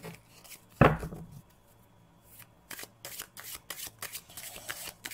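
Tarot cards are shuffled close by, starting with a sharp slap and then continuing as a run of soft, riffling flutters and rubs, with no talk over them.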